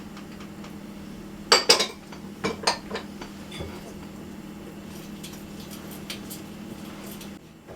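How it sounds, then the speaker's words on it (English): Melted butter being stirred into flour, sugar and salt in a bowl for pecan shortbread, with a few clinks and scrapes of a utensil against the dish over a low steady hum, faint and intermittent. "I'm going to mix that around until I get a sort of sandy or crumbly like texture."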